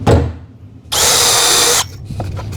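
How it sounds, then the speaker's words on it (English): A power drill drives screws into a cabinet drawer front during installation, one steady loud whirring burst of just under a second preceded and followed by quieter handling sounds. "What's great about this drill is it's very controllable"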